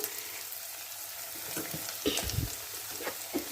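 Steady sizzling hiss of sliced onion rings frying in hot oil, with a few clinks and stirring scrapes of a utensil against the pan.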